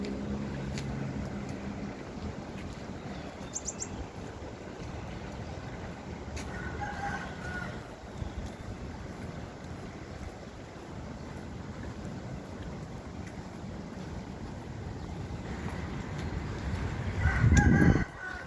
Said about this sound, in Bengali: ব্যাংককে মুরগির ডাক